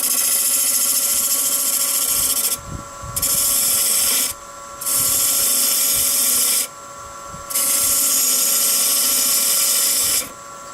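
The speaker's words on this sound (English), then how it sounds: "I'm using my half-inch spindle gouge." A maple salt box spins on a wood lathe while a half-inch spindle gouge cuts its tapering exterior, giving a steady whine broken by repeated bursts of hissing cutting noise with short pauses between passes.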